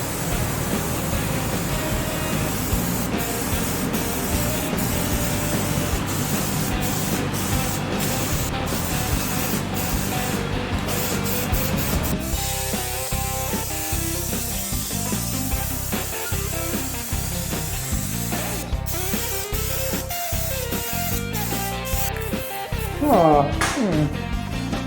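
Aerosol paint can spraying coats onto Camaro parts, a steady close hiss running almost unbroken, later cut into short repeated bursts.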